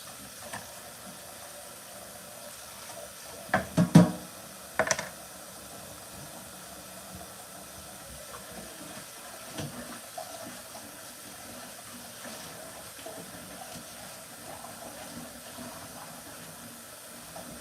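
Water runs in a kitchen sink as a dish is washed out, a faint steady hiss of flowing water lasting throughout, broken by a few brief louder clatters early on, with no voices.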